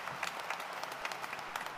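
A church congregation at a Catholic Mass claps in praise and thanks for Jesus the Nazarene, a steady dense round of applause filling the whole short stretch.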